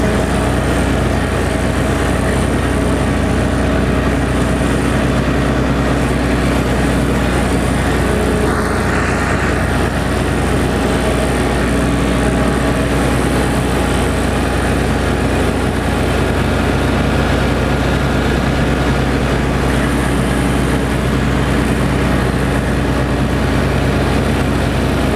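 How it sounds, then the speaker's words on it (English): Lawn mower engine running steadily while mowing along a fence row, a loud, constant droning rumble throughout with little variation and no talking. "Particular pattern that I mow in. I just mow."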